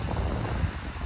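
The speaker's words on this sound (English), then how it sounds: "It's great when the waves come in." Waves roll in against a rocky seafront with no beach, a steady broadband wash of surf mixed with wind buffeting the microphone, continuous and fairly loud throughout with no voices.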